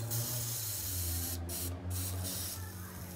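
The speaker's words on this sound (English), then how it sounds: "WD-40 works as a great lubricant." WD-40 aerosol can sprayed onto a motorcycle tyre bead as lubricant, a close, steady hiss broken by two short pauses.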